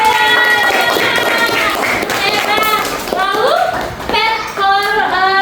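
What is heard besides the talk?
class clapping for the robot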